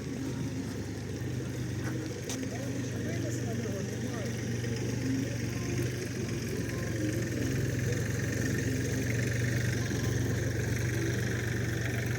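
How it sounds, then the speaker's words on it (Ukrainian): A tractor engine rumbles steadily at a low pitch, driving along continuously without revving, with faint voices in the background. "Трактор їде серйозно, дуже серйозно їде трактор."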